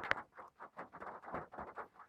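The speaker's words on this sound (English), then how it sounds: "it's raining on the roof" Rain patters unevenly on a roof, arriving as soft bursts of close tapping that rise and fall without any voices.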